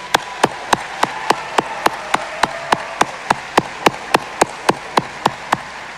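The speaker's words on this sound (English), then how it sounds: "Let's all give them another round of applause." Graduating class honored at a high school graduation ceremony with steady, evenly spaced claps, about four per second in unison rhythm, sharp and moderately loud over a low room hum.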